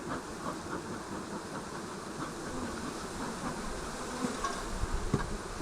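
Honeybees humming steadily around an opened hive during a swarm-prevention split, a continuous dense buzz at moderate level with no speech.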